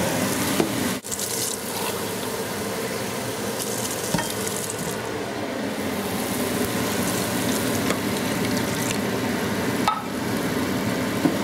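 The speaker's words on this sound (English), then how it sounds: "this is when I add some water" Loud, continuous sizzling hiss as water is added to a pot of beef stew, steady throughout with a couple of brief clinks.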